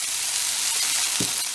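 Zucchini goes into a hot pan of frying beef stir-fry, giving a steady, loud broadband sizzle and a brief stirring thump near the end, with no voices.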